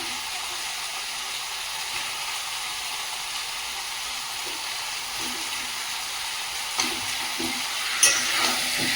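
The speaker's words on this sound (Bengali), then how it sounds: "আলুটা কিন্তু আমি ভেজে নেব, আলুটাও মাংসের সঙ্গে কষাই দেবো" Potatoes fry in a pan of oil for a meat curry, giving a steady, even sizzle and hiss throughout, with a couple of brief clatters near the end and no talking.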